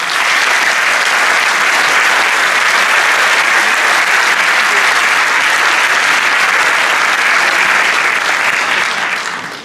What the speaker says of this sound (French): Je crois qu'ils méritent nos applaudissements.